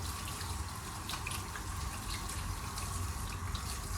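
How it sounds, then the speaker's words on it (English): Water runs at strong shower pressure over clipper blades, a loud, continuous hissing gush with faint splashes and no voices. "we're going to get a running water with a good pressure"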